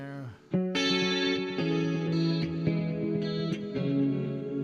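Electric guitar through an echo effect, a string of ringing chords and notes whose repeats blur together, played alone after a brief pause at the start.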